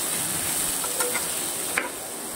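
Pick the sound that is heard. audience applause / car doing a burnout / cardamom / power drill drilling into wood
cardamom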